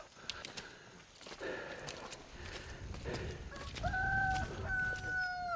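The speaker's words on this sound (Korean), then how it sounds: "닭소리가 아까 잠깐 들렸는데" Chickens cluck and a rooster crows in a remote mountain village of the Kui minority in Laos, with a long two-part crow rising clearly near the end over scattered farmyard noise and faint hoofbeats.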